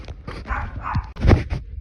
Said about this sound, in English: Also ignore that, that's my dog.